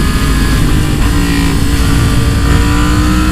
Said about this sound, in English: Now let's test out high RPM throttle response.